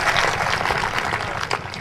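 Audience applause at a kavi sammelan poetry gathering in Mandsaur, a dense, steady wash of many hands clapping close by for the whole brief moment.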